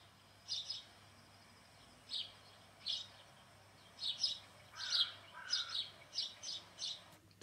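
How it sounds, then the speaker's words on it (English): Birds tweeting in trees as a sound effect: a run of high, short chirps and twittering calls, spaced irregularly and growing busier toward the end, over a faint steady hum. "this is birds tweeting in the trees"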